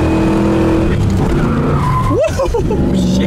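A 1973 Camaro Z28 with an engine that is not detuned spins its tires, a loud engine roar building into a burst of squealing, chirping tire screeches midway before the engine drone carries on up close.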